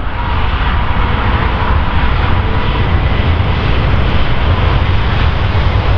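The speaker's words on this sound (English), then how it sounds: "350 now starting his takeoff run" Airbus A350 XWB jet airliner beginning its takeoff roll at the Farnborough Airshow, a steady, loud broadband engine roar that holds constant and dense throughout with no pauses.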